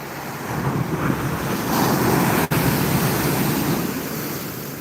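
Sea waves roll in with the rising tide on a Phuket beach, a steady broad wash of surf with constant wind buffeting the microphone and a brief dropout midway.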